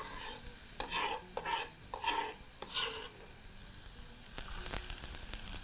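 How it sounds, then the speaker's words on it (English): White onions go into hot oil in a pot and sizzle softly, with a series of stirring scrapes followed by a brighter hiss near the end, no talk. "begin your process by adding some oil to your pot. Proceed to add in your white onions."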